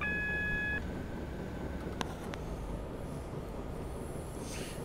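A Class 150 diesel multiple unit running between Bristol and Exeter, heard from inside as a steady, loud rumble of wheels and motor, with a brief three-tone beep at the start and faint clicks partway through.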